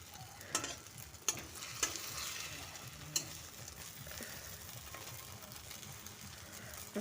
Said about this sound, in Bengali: দুটো ডিম ভেজে নিচ্ছি অমলেট করছি